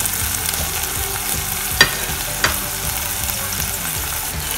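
Chicken breast sautéing in a pan for pininyahang manok makes a constant loud sizzle, broken by two sharp clinks of a utensil against the pan.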